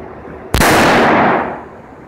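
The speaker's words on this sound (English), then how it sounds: "Let's try the Thompson contender now. I'm going to shoot for that dot above it." A single loud gunshot from a Thompson Center Contender pistol fired at an ICF foam block, a sharp close blast followed by a long, bright ringing decay that fades over about a second and a half.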